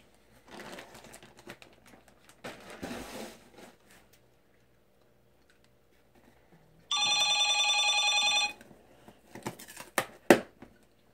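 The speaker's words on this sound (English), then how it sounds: "Sorry about all the noise my phone's making over here." A mobile phone gives off notification sounds: a loud, steady electronic chiming burst lasting about a second and a half, then a few sharp short beeps, amid rustling of a package being unpacked.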